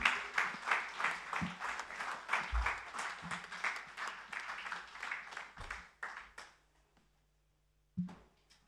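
A church congregation applauding during a Sunday worship service, with rhythmic, sustained clapping that thins out and stops, then a brief final clap.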